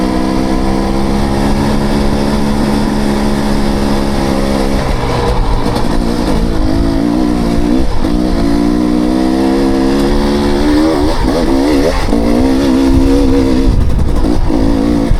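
A motorcycle engine drones loudly and close while riding up a trail, holding a steady note before shifting lower and revving unevenly as the bike climbs, with no voices over it.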